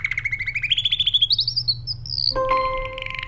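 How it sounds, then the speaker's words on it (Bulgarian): A pet parrot calls with a rapid run of rising chirps that climbs in pitch, then shifts into a harsher sustained squawk, loud and close with no talking. "Папагал."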